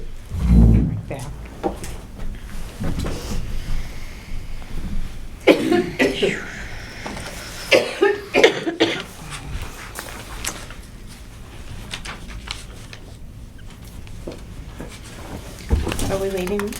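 A person coughs sharply at the start, then more coughs and throat sounds break up a stretch of conversation at a town conservation commission meeting, with shuffling and other room noises in between.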